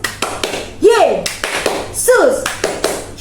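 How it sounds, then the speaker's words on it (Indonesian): Children clapping hands in a rhythmic chant during a church children's service, sharp claps in a patterned beat mixed with sung voices. "Sekali lagi, tepuk Yesus."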